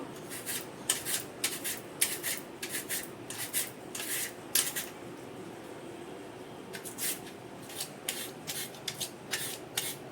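Quick rhythmic rasping strokes of a blade cutter slicing potatoes, bursts of scraping with a short pause in the middle, close and fairly quiet.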